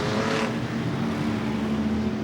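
Jaguar banger race cars roar around a circuit in a loud, steady engine drone, one car's engine note holding a sustained tone close by, with a brief burst of harsher noise at the start.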